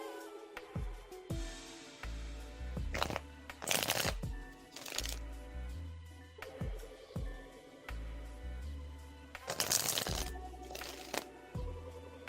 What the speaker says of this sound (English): Becca, I am shuffling for you now